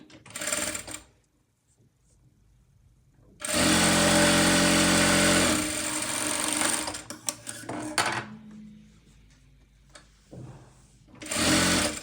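Sewing machine stitching a katori blouse, running in two loud sustained bursts of stitching with a shorter burst at the end, separated by quieter pauses with faint handling sounds.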